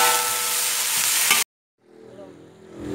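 Fern shoots (pucuk paku) sizzle loudly in a hot pan with a steady hiss, then cut off abruptly, followed by a quieter, rougher rumble of cooking.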